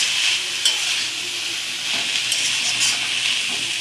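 Bengali greens (shak) frying in oil in a home kitchen pan give off a steady, bright sizzle and hiss, with a few faint stirring clicks and scrapes along the way.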